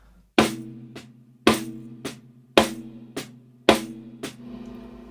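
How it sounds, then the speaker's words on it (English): Snare drum played with alternating strokes, the right hand's loud accents followed each time by a soft left-hand ghost note, four accent-and-ghost pairs in a steady rhythm, close and alone. "If I was to play ghost notes in my left hand and an accent in my right"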